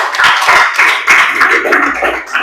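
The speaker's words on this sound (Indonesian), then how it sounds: "Kasih aplaus dulu untuk kelompok" Classroom students clap for a group of classmates, brisk close applause of a small gathering with uneven rhythm, loud and alone for a couple of seconds.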